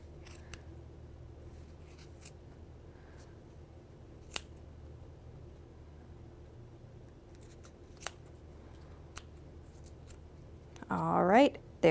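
Scissors cut yarn between two cardboard discs to make a pom-pom, a quiet room with faint isolated snips and ticks before a brief louder flurry of cutting near the end.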